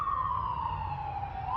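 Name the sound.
sirens from emergency vehicles near a hospital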